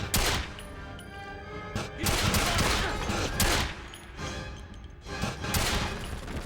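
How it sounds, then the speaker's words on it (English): Gunfire in the PS2 video game 007 Quantum of Solace, loud rapid bursts of shots in several clusters with short pauses between, booming and dense, no voices. "I was able to shoot him and pick up his ammo"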